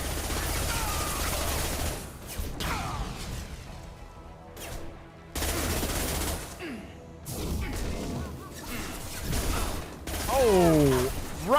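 Video game gunfire in Mass Effect 2 comes as repeated bursts of shots and crashes with whooshing effects, loud and up close, mixed with game noise and spoken voices.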